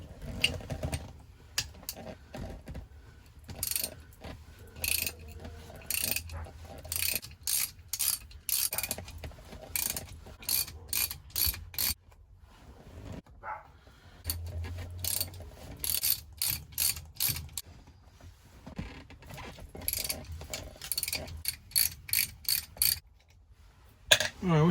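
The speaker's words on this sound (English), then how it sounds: "We're gonna take these 4 bolts off." Ratchet wrench backing out four half-inch bolts from a Hurst shifter on a T5 transmission, bursts of rapid close clicking separated by short pauses, fairly quiet.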